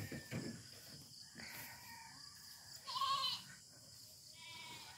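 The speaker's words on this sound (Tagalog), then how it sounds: "Oh, nagmemek-meka ng mga kambing." Goats bleat faintly and intermittently at a distance in a rural village, a couple of wavering cries over a quiet outdoor background with insects.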